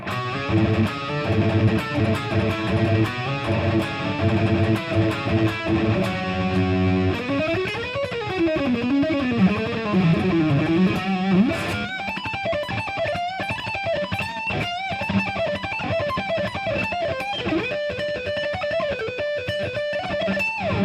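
Electric guitar through a Fractal AM4 with a distorted tone, playing fast riffs and then smooth sustained lead lines with bends, loud and up front with no talking.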